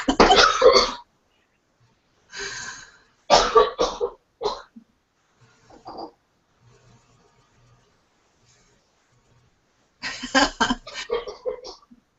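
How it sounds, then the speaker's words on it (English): A person clears their throat and coughs a few times in short bursts, close to the microphone, with quiet gaps between. "I'm sorry, I have to cough."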